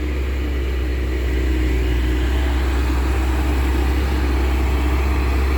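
A common rail diesel engine runs steadily in a vehicle, producing a deep, continuous rumble with a constant low hum and no noticeable revving.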